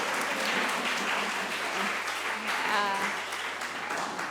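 An audience claps after a talk on happiness, giving steady, moderately loud applause throughout while a voice talks faintly underneath.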